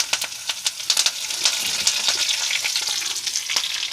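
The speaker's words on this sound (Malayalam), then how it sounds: "2 വേപ്പിൻ്റെ ഇല ഇടുന്നു." Curry leaves crackling and sizzling in hot oil with fried onions, a dense steady frying hiss with sharp pops throughout, close and loud, while preparing a Kerala fish curry.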